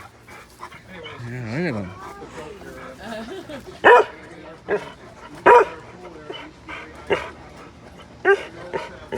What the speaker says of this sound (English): It's a big dog right here.